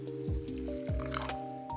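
Warm water is poured onto matcha powder, giving soft squishing, dripping pours in short bursts and a rising filling tone, close and fairly quiet.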